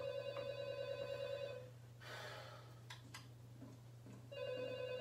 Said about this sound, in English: Who keeps calling on the phone?